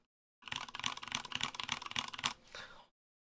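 Quick, steady typing on a mechanical keyboard fitted with Cherry MX Brown switches and Glorious GPBT keycaps, close and crisp with rapid clacks for about two seconds, then a softer rattle.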